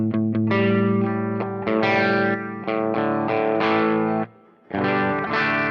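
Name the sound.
electric guitar through Fractal AX8 with kicker boost off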